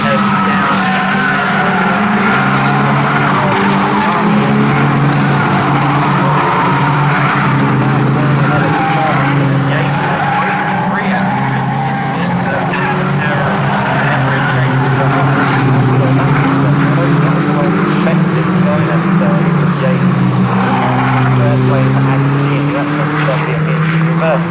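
Race cars of the 1600 class in a Toyo Tires 7 Race Series race at Snetterton, a dense continuous engine roar from the pack accelerating, loud and sustained throughout with commentary voices running underneath.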